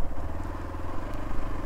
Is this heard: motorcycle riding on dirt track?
yes